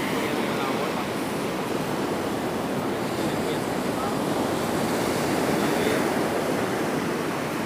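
Ocean waves break on the shore in a steady, loud, broadband roar of surf that never lets up, with wash and rush blending into a constant hiss.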